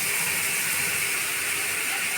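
Water splashed into a hot, oil-free frying pan while cooking aloo kulcha hisses and sizzles in a steady, loud, continuous broadband rush.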